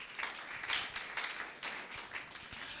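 A church congregation claps in a steady, moderately loud burst of applause with uneven swells, lasting a few seconds.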